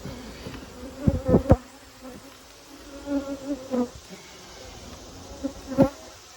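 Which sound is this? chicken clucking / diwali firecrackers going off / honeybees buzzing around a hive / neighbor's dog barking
honeybees buzzing around a hive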